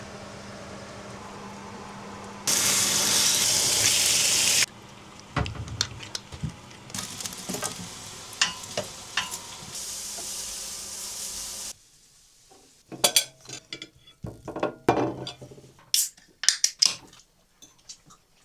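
Meat and potatoes frying in olive oil in a pan during a Lapland road trip in a micro camper van, with bursts of sizzling and intermittent clinks and scrapes of utensils stirring, some quiet pauses between.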